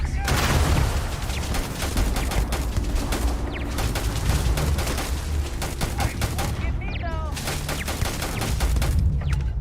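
Sustained gunfire from a scoped rifle in Starfield, steady rapid shots for nearly ten seconds at an abandoned helium-3 facility, loud and close with brief pauses between volleys.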